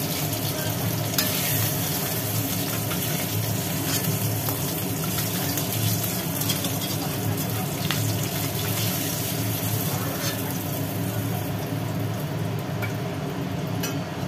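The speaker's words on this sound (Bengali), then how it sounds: "মাছগুলো হালকা করে নাড়িয়ে চাড়িয়ে ভেজে নেওয়া হলো।" Four pieces of hilsa fish frying in oil, sizzling steadily and loudly throughout as they are gently stirred, with no talk over it.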